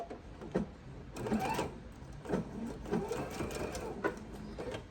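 Sewing machine stitching fabric for an oven mitt with a quarter-inch seam, close rhythmic mechanical bursts that start and stop several times.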